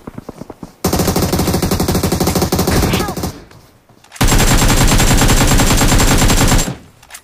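Video game gunfire, loud and close, in two long, rapid automatic bursts separated by a short pause, each shot a sharp even pulse in a steady rhythm.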